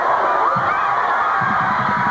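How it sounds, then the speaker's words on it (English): A stadium crowd at a 3A state football championship roars steadily in the distance, a dense wash of cheering and shouting with rhythmic chanting pulses near the end as the final seconds tick away. "You can hear the crowd count it down."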